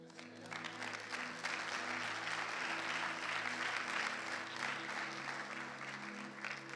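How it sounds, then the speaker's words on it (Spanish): Dense, continuous applause from a church congregation fills the space, with steady held keyboard tones underneath throughout. "Dale más fuerte ese aplauso, Señor."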